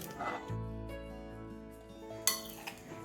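A utensil scrapes and clinks against a pan as cooked food is mixed, with quiet stirring sounds and one sharper metallic clink near the end.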